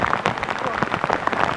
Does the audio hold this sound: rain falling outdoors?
yes